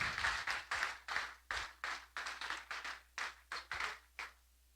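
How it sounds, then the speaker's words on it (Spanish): A church congregation applauds a doctor at a mental health event, giving quiet, pulsing bursts of clapping with a steady rhythm that fades out near the end. "agradecemos al doctor con un fuerte aplauso, iglesia"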